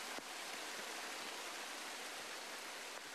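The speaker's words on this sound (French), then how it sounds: "L'eau jaillit implacablement de la falaise." Water gushes relentlessly from the cliff face at Shiraito no Taki waterfall, a dense, steady hiss of falling and splashing water with no voices.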